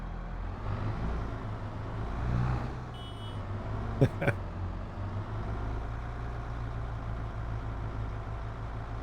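A heavy Case Magnum tractor engine in a video game rumbles steadily at a low idle throughout, with a couple of brief sharp clanks partway through.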